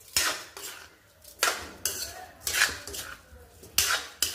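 Soya chunks and rice sautéed for soya pulao in a pot, a spoon scraping and knocking against the metal in several loud, regular stirring strokes, close up, with no speech.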